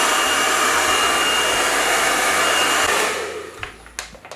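A hair dryer blows steadily and loudly while drying gel on a wig ponytail, a continuous whooshing roar that cuts off near the end, leaving faint handling clicks.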